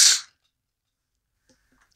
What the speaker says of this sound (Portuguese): Fiquei com o espirro preso já.